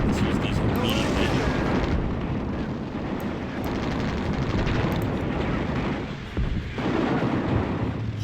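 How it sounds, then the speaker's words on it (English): Howitzer artillery bombardment in Sudden Strike Gold, a World War II strategy game at Dunkirk: heavy booming blasts and rumbling explosions roll one into another, loud and close, with a brief lull before more impacts. "So right now I'm just bombarding this general area."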